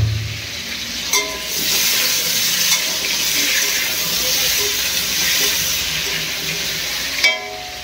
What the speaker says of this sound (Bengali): আলুটাকে আগে ভালো করে ভেজে নেবো